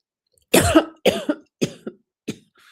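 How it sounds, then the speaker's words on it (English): Four separate coughs, loud and close, with short pauses between them and the later ones quieter and shorter. "What's up with this cough?"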